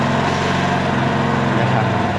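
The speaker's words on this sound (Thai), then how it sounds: "เครื่องยนต์ติดนะครับ" A fuel-injected motorcycle, remotely started with an AutoRoute CR5 anti-theft system, runs loud and close in a steady, even idle with a fast regular pulse and no break.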